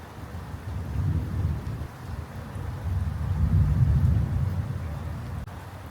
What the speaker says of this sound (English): Summer storms in Australia.